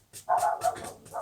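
A neighbour's dog barks in the background, a few short, moderately faint yelps bunched over about a second, with no talking over them.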